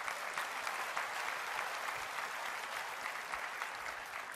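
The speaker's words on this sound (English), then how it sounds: "So give yourself a round of applause" Sustained applause from a large audience at an Apple WWDC keynote hall, a dense, even wash of clapping that continues at a steady level throughout without pause.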